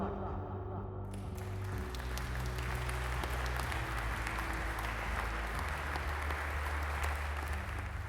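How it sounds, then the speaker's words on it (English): Steady applause from an audience fills the whole stretch, a dense wash of many hands clapping at moderate distance. "Some in the audience clapped."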